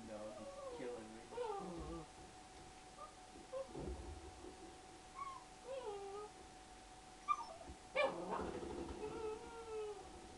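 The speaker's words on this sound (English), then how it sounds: "Goddamn dog, he's killing me." An attack dog in the Black Ops 3 game whimpers and growls in short broken calls among gunfire and game noise, with occasional speech mixed in.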